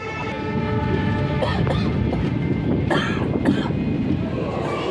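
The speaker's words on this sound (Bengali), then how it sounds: "ফাইনালি আমাদের ট্রেন এখন আয়া পড়ছে রেলওয়ে স্টেশনে" A train arriving at a railway station on the Digboi to Guwahati route rumbles steadily past at close range, a continuous loud mechanical roar with a few metallic squeals and clanks over it.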